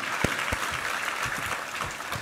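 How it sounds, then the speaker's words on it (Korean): A church congregation at a Sunday worship service breaks into a burst of applause, with dense, even clapping from many hands filling the room for the whole stretch. "우리 하나님께 감사와 영광의 박수 올려드리겠습니다."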